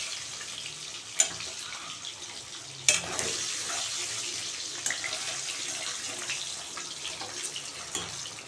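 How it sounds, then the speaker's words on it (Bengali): Eggs frying lightly in oil for a potato and cauliflower egg curry, a steady hissy sizzle with a few sharp spatters and pops, close and moderate in level with no talking. "ডিমগুলোকে একটু হালকা ভেজে উঠিয়ে রাখবো।"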